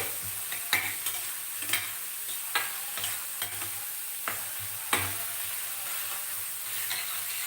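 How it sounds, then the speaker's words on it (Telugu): Onion, tomato, ginger, green chillies, asafoetida and chilli flakes fry in a pan, a steady sizzle broken by about eight sharp scraping stirs at irregular intervals, close and clear with no voices. "మొదట ఉల్లిపాయ వేసాము ఉల్లిపాయ తర్వాత ఇందులోని టమాటో వేసాము అల్లం పచ్చిమిరపకాయలు ఇంగువ చిల్లీ ఫ్లేక్స్ వేసాను"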